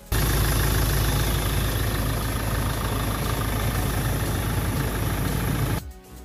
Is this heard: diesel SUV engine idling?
yes